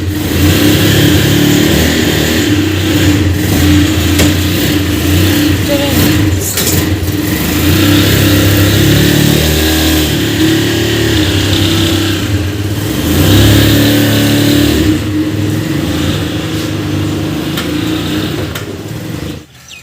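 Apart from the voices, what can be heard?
car being driven out, engine revving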